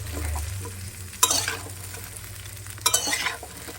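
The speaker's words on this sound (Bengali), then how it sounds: "চলো একটু ভেজে নিই যতক্ষণ না এই খোলার কালারটা চেঞ্জ হয়" Spices with chili powder frying in a pan, a low hum with two bursts of loud stirring and sizzling as the mixture is turned, no talk.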